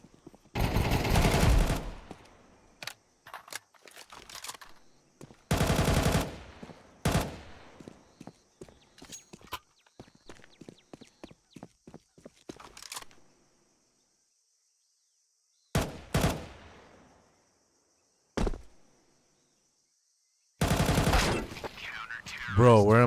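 Bursts of video game gunfire from the player's weapon, several loud rapid volleys separated by pauses, with scattered single shots and quieter clicks between them.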